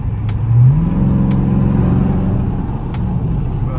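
A Dodge Charger R/T with a mid muffler and resonators revs up, its deep engine note rising quickly and then holding a loud, throaty drone with a steady growl, heard close with no talking.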